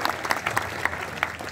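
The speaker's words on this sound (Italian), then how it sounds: "L'applauso, più che farlo a me, facciamolo agli espositori" Dense audience applause with scattered sharp hand claps fills a hall at the Venice boat show in the Arsenale, steady and moderately loud throughout.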